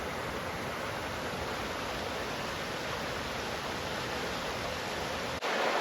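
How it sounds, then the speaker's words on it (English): Steady broadband rush of a stream flowing beside a Levada irrigation channel walk in Madeira, continuous and fairly loud throughout with no voices, cutting off sharply near the end. "listening to the water and watching the stream"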